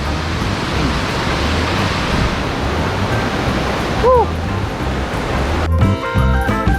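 Steady, loud rushing water from the Tad Hua Khon waterfall fills the scene, a constant broadband roar with a brief bird chirp partway through.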